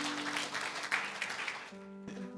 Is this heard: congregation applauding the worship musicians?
yes